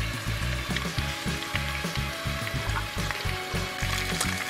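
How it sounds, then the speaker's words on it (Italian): Beef for brasato al Barolo sizzles in a hot pot, a close, busy crackle with rhythmic bursts of frying over several seconds, no voices. "Ora ci infilo la carne e la faccio cuocere."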